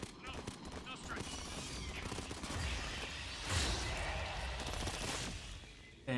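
Automatic turret gunfire in the co-op shooter game Aliens: Fireteam Elite, a steady loud barrage of rapid shots under ongoing voices and game action, with a heavy low burst midway.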